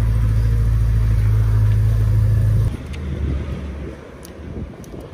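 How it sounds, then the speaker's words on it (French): Heavy wind buffets the microphone with a loud, low rumble that eases off partway through, leaving gusty background noise. "Il y a un peu de vent les gars"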